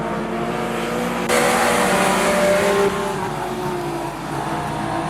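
Junior sedan race cars roar around Rockhampton Speedway, a dense blend of several engines revving and droning close by, swelling louder for a stretch in the middle before easing back to a steady pack rumble.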